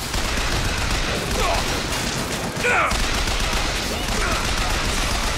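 Sustained machine gun fire from a weapon in BioShock Infinite, a dense, loud and continuous rattle of rapid shots with no pauses, mixed into busy game noise.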